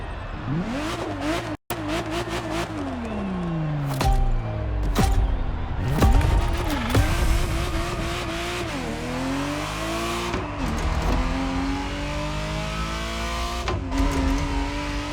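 A Ferrari Testarossa in The Crew Motorfest revs and accelerates loudly, its engine note climbing and falling through repeated gear changes, with occasional tire squeal and a brief dropout near the start.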